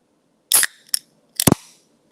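Can of Coca-Cola Zero Sugar opened indoors: a sharp metallic crack, a short click, then a second crisp snap with a brief fizz, close and isolated against near silence.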